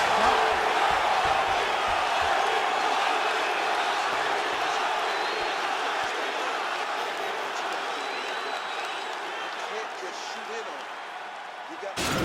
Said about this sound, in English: the crowd voicing its appreciation after that round